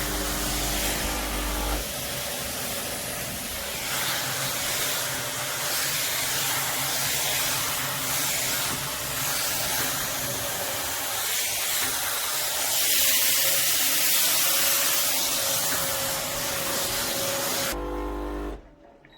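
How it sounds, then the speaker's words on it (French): A Laurastar S Pure ironing board's fan blows air upward and then, reversed, suctions downward: a loud, steady whooshing drone close at hand that shifts slightly in tone partway and cuts off near the end. "Vous voyez là, ça souffle vers le haut. Vraiment, c'est pour la mise en place des vêtements. Et j'inverse. Hop. Et là, ça aspire vers le bas."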